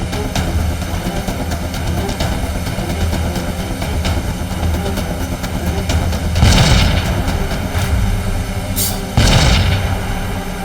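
Cartoon explosions near mountains, two heavy booms landing about three seconds apart over a rumbling background of blast and engine-like noise, with no speech heard.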